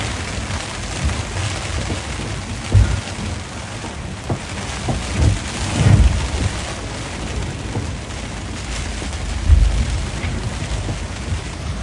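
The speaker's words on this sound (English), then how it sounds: "Big rain shower now." Heavy rain hammers steadily onto a sailing boat at sea, a dense continuous hiss with occasional louder gusts and thumps of water against the hull and deck over about twelve seconds.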